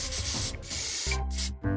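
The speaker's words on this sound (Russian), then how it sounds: "Спрей от насекомых." Insect spray fired in the mobile video game TapeeTime, a steady close hiss of aerosol lasting about a second over background game music and effects.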